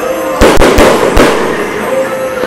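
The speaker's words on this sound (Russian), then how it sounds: "А вот и салют." Loud fireworks salute with several sharp bursts and crackling pops in quick succession against a steady hiss of background noise.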